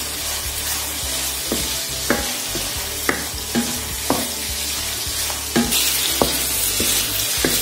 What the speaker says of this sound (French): toujours remuer pour que ça ne brûle pas. Les crevettes ont bien doré.